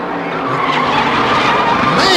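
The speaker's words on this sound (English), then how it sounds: "he locked up those rear brakes" A race car skids with its rear brakes locked, a loud, sustained tire squeal and scrubbing roar close by, with commentators talking underneath.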